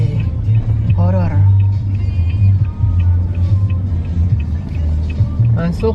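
A car rolling slowly into a hotel parking lot, a low steady engine rumble close by with people talking inside over it.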